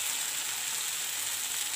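Boiled potatoes drop into spice paste frying in hot oil, giving a steady, even sizzle at moderate loudness throughout, with no voices.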